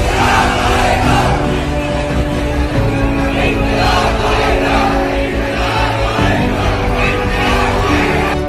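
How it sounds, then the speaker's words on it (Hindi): A huge, dense crowd at Shaheen Bagh produces a loud, continuous roar of many voices with chanting tones, steady throughout without a break. "जो है भयंकर तरह की भीड़ है, निकलना इम्पॉसिबल, घुसना इम्पॉसिबल तरीके से"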